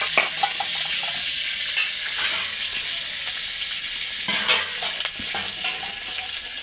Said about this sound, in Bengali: এবার আমি ওই তেলেতেই করলাটা তুলে দেবো।